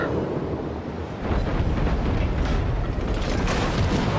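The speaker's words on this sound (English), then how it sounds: "he just blew up my number 2 turret" Heavy booming naval gunfire and an explosion as a Wyoming battleship knocks out a ship's number 2 turret in World of Warships, a dense rumbling roar that swells louder after the first second and keeps churning steadily throughout.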